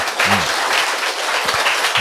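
An audience claps together at a Korean health lecture, a brief dense burst of applause with a few low voiced murmurs underneath.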